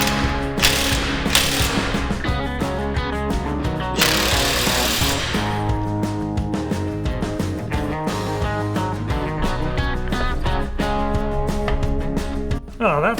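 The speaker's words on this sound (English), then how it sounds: "Now it's time to bolt on the fair lead and mount up the winch." Power ratchet bolting a fairlead and winch onto a car hauler trailer, heard as loud, close, rapid mechanical rattling and hammering that runs almost continuously.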